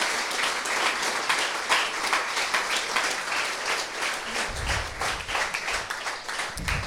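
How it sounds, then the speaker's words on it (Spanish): Church congregation at an evangelical service gives a long, steady round of applause, a dense wash of clapping heard at moderate distance with a few low thumps near the end. "Denle un gran aplauso al Señor"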